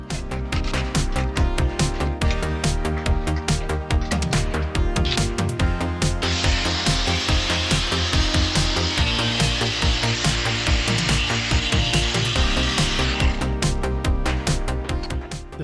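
A stock Harley-Davidson Sportster rear fender being cut out with a power tool in a workshop, a steady loud grinding cut that runs throughout, with a harsher, brighter cutting stretch in the middle before easing back.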